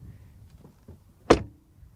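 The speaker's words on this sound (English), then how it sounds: "the door shut sound is just as solid and resounding" A Mercedes A-Class facelift hatchback door shuts with a single solid, deep thunk, close and loud against near silence.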